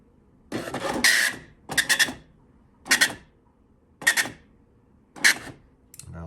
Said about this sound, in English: What I'll do is I will print a letter.